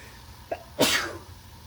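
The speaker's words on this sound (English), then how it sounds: "All these powders make me sneeze." A quick intake of breath followed by a single sharp, close sneeze, then quiet.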